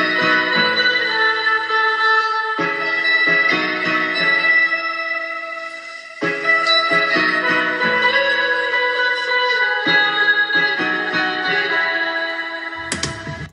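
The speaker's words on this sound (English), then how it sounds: "what I did was I pitched it up and I speed it up and it sound like this" A sped-up, pitched-up instrumental, reworked in FL Studio as a club mix, plays loud and continuous with bright layered melodic tones and regular chord changes, no voices.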